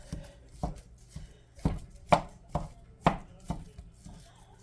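Regular sausage being mashed up in a pan as it browns for sausage gravy, with a utensil striking the pan in irregular sharp knocks and scrapes, about a dozen distinct hits, close and fairly quiet.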